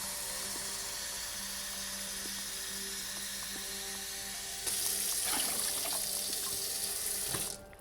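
Water runs steadily from a tap into a pot, measured out for a mushroom cube substrate, and the tone brightens as the flow strengthens near the end. Close and fairly loud, with no talking.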